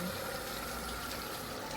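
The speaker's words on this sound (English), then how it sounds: "That's the toilet emptying," A motorhome toilet cassette empties into a waste dump at a German stopover, producing a steady, fairly quiet rushing gush of liquid with no talking.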